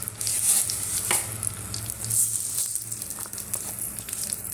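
Mustard seeds crackle and sizzle in hot oil with dried red chillies already in the pan for a lemon pickle, a continuous close hiss with scattered pops and faint stirring throughout.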